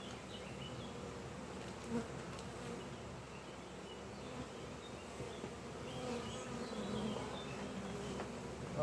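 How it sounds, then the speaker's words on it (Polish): Honeybee swarm being settled into a hive at an apiary, giving a dense, continuous buzzing that holds steady and close throughout, with no talking. "Pszczoły się zaraz pozlatują,"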